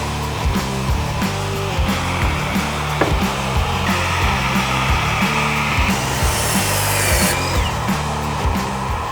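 A table saw fitted with an attachment whines loudly and steadily while cutting repeated wooden frame pieces against the fence. Regular rhythmic pulses mark each pass of the wood, and a brief sharper sound comes near the middle. Nobody speaks.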